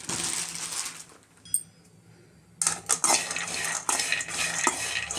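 Peanuts roasting in a pan over medium heat, stirred with a utensil: rattling, crunchy scraping and clinking in bursts with a brief quiet gap, close and moderately loud.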